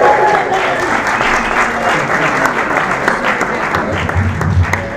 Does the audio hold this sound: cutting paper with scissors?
no